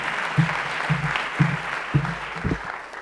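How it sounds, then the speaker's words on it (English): Audience applause in an indoor event hall as a grant presenter welcomes the next speaker, steady clapping with several louder swells over about three seconds, moderately close and without talk. "please give a round of applause for Monica."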